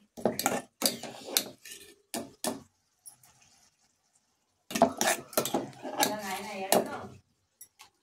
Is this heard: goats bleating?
no